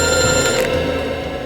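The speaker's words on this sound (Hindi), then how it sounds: "हॉस्पिटल से फोन है।" A telephone bell rings loudly and continuously, a bright sustained tone with buzzing overtones, up close with no talking over it.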